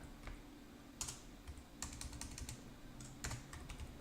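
Keys clack on a computer keyboard as shortcut combinations are tapped, in irregular bursts of quick, fairly close clicks with short pauses between groups.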